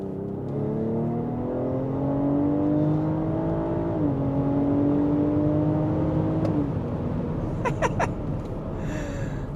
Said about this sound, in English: let's hear how the car sounds on throttle